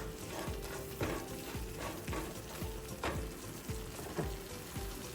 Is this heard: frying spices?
yes